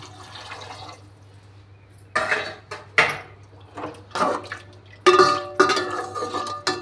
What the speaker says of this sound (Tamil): நான் தண்ணி ஊற்றிக்கிறேன்